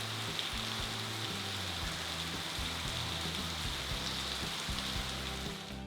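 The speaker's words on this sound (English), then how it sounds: "we sat in silence and listened to the water drop down" Steady rushing water with a dense patter of drops, continuous and fairly loud, like a waterfall splashing onto rocks and pools along the Gibb River Road in Australia, with no voices.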